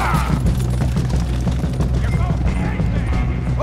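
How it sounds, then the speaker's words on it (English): Gunfire crackles in a Red Dead Redemption 2 shootout, dense repeated shots and booms layered under loud game music and voices talking. "they're shooting at us now"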